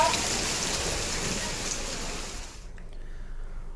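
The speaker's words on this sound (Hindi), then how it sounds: "मुंगेली में रुक रुक कर झमाझम बारिश हो रही है।" Heavy downpour in Mungeli, a dense steady hiss of rain that drops away sharply near the end, with no voices.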